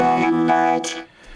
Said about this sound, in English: this is the vocoder, the very standard, normal one